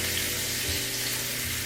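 Sous vide steak searing in a hot pan, a loud, dense, continuous sizzle heard alone throughout a short stretch.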